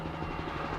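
A helicopter flies overhead, a low rumbling drone with faint rhythmic rotor thumps, loud and continuous for a brief moment.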